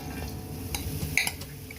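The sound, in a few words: stirring bitter gourd in a hot dry pan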